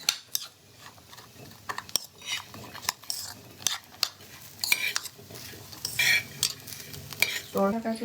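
Carrot, beetroot and tomato are stirred in a pan while they roast, giving irregular utensil scrapes and clinks against metal over a faint sizzle, with occasional quiet talk.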